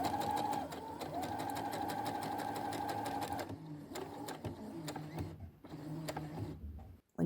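A sewing machine stitching a dress pocket and skirt seam runs with a fast, steady mechanical whir and needle chatter that changes pace near the end, close by with no speech.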